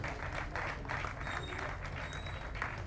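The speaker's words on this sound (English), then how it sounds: "If you can give them a round of applause, I appreciate it." Applause from the audience at an NPP political meeting, steady clapping at moderate level filling the moment, with faint background sound and no clear talk.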